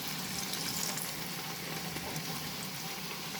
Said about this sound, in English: I will fry all the puris now